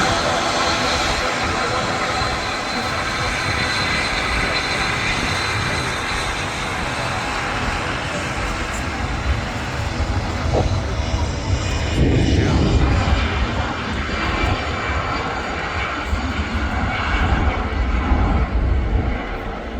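A Loganair airplane makes its takeoff run on runway 05L at Manchester Airport, a loud, steady engine roar with a broad rushing hiss that swells slightly toward the middle, heard from nearby without speech.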